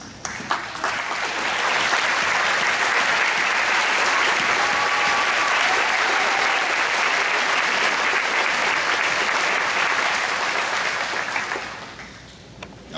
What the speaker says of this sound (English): let us give y'all a round of applause